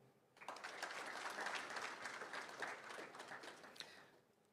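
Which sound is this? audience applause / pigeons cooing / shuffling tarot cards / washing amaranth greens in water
audience applause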